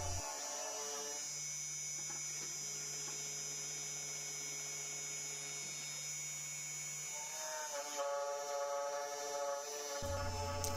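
A Genmitsu 4040-PRO CNC milling machine engraves letters with a steady high whine and hum, its pitch shifting midway and again near the end as the cut changes, continuous and fairly quiet throughout.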